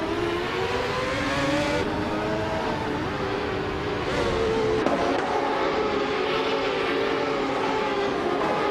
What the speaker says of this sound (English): The IndyCar's 1995 class on Autopolis Oida creates high-speed battles and tight overtakes